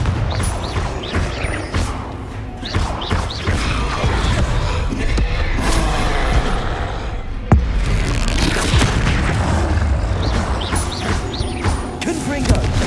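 Confringo spell explosions in the Hogwarts Legacy video game, repeated loud booms and crashes over a busy background of combat effects, with one sharp blast standing out midway.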